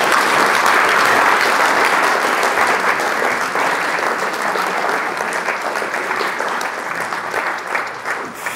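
A large lecture audience applauds after a talk by Eugen Drewermann on war and peace, a loud, dense, sustained wash of clapping that holds steady and thins slightly toward the end, with no speech over it.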